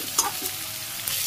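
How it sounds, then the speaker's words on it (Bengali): Fish, potato, eggplant and bitter gourd sauté in a pan with a soft, steady sizzle and a couple of brief stirring scrapes, heard close up with no voices. "মাছের সাথে আরও কিছু সময় কষিয়ে নিব আমি।"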